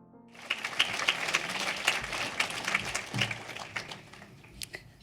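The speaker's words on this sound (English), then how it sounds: "One more round of applause." Audience applause at a Gritman Foundation Pink Tea gathering, a steady burst of many hands clapping that swells quickly, holds dense and moderately loud, then thins out and fades near the end.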